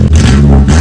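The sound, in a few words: Peugeot 206 engine revving with exhaust removed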